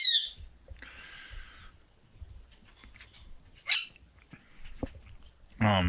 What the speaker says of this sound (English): Don't mind the bird in the background.